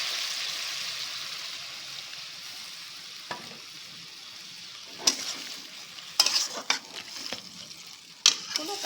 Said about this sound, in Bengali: একটু ভালো করে নেড়ে নিয়ে তরকারি জলটা ঢেলে দেওয়া হচ্ছে।